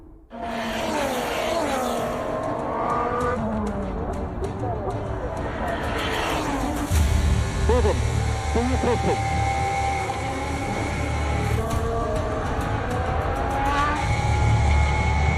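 An F1 23 race car screams at high revs, then spins and skids with tyre squeal as the engine note drops and rises. An excited commentator talks loudly over it, with the engine roaring near and constant.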